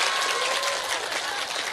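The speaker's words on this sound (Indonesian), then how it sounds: "Tepuk tangannya buat Fatimahuz Zahra" A gathered audience at an Islamic preaching event claps in a brief, full burst of applause for a family group, steady and close, with a faint voice underneath.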